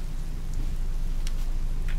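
Heavy rain pours steadily in The Forest video game, a dense even hiss with a low rumble beneath and a few faint brighter drips, with no one talking.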